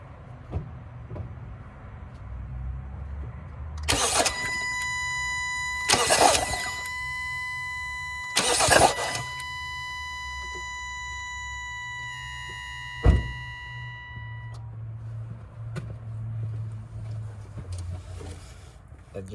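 A Hyundai Sonata with a misfire and heavy fuel consumption is cranked several times, short bursts of starter whirring followed by a rough, uneven idle, with a few clicks and some quiet talk nearby.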